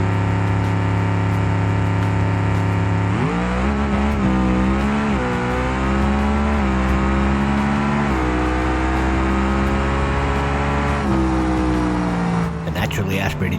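Naturally aspirated 500 cubic inch D-Series outlaw drag car in the BeamNG driving game, engine at full race: a loud, sustained harmonic roar climbing in pitch through gear changes, with a brief drop near the end.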